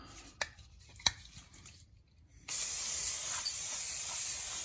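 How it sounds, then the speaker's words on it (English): Brake cleaner sprayed onto rusty rear brake parts, a loud continuous hiss starting abruptly and running steadily for about two seconds, after a few faint clicks and knocks. "Spray it down with some brake clean"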